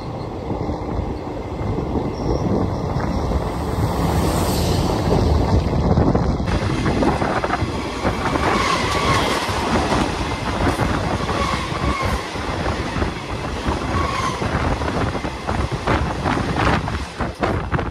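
A Bengal suburban local train rolls along the rails near Naihati station with a loud, continuous rumble and rattle, wind buffeting the microphone throughout.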